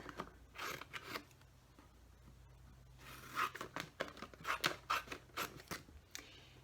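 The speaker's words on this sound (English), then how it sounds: "you're just going to take your scissors and you're going to cut them up right up to that fold" Scissors snip through book pages along folds in a series of short, crisp cuts, close and quiet, with brief rustles between strokes and no speech.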